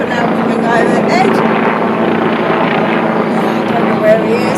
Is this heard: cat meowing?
no